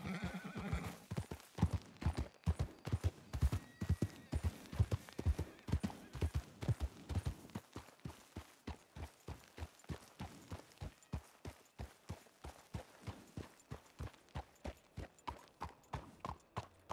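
Horse hooves clip-clop steadily in the Red Dead Redemption 2 video game, near Valentine, starting loud and quick with a neigh, then settling into a slower, evenly spaced, quieter trot rhythm.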